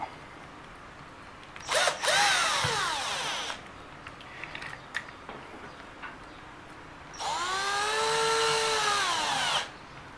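A power screwdriver drives screws into a small Eachine EAT11 RC car, heard as two close, loud whirring bursts with rising and falling pitch, separated by light plastic clicks and handling noise.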